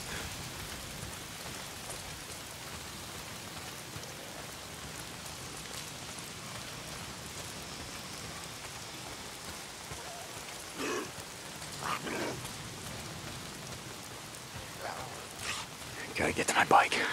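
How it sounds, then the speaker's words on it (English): Continuous steady rain falls in the video game Days Gone, with a few brief louder sounds breaking through in the later part. "If it's not the freaks, it's the goddamn rain."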